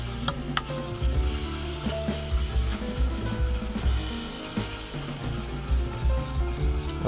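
Gesswein diemaker stones rubbing back and forth over a hardened steel knife blade in a continuous, close, fairly loud scraping and grinding with steady strokes, no voices.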